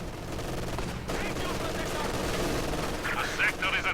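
Machine-gun fire in Company of Heroes 2, a 2v2 match of infantry and tanks, crackling as dense rapid bursts within a busy battle mix, with bright short volleys near the end while a commentator talks over it.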